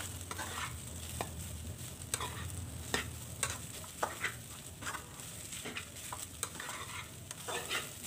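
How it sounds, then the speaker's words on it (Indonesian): Cassava leaves tossed with grated coconut in a pan, giving a soft continuous sizzle broken by repeated rhythmic scrapes and clacks of a spatula stirring, close and fairly quiet with no voices. "dicemplungkan ini ada kelapa parutnya ya dioseng-oseng juga sebentar supaya lebih tercampur semuanya"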